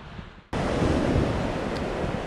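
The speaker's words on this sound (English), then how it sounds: "They don't look massive, these waves, but they will certainly cause us some havoc if we get it wrong." Dumpy sea waves break along the Kangaroo Island shore, a sudden loud wash of surf that stays as a steady roar with wind buffeting the microphone, close and alone.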